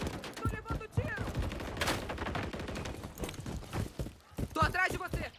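Rapid bursts of Call of Duty: Modern Warfare 3 gunfire crackle in quick volleys on the Estate multiplayer map, mixed with voices calling out over the shooting.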